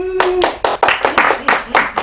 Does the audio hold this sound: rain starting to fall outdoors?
no